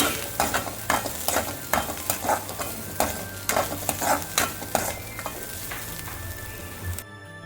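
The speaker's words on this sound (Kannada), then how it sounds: "ಈರುಳ್ಳಿಯನ್ನು ಚೆನ್ನಾಗಿ ಕೆಂಪಗೆ ಕಾಯಿಸಿಕೊಳ್ಳಿ" Onions fry to a deep red in spiced masala for an eggplant dish, with a continuous sizzle and a rhythmic run of close spatula scrapes and stirs before a sudden quiet end.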